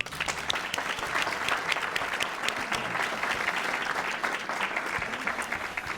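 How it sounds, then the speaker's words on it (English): A crowd applauds steadily, many hands clapping in a dense, sustained burst at close range. "Let's give her an applause."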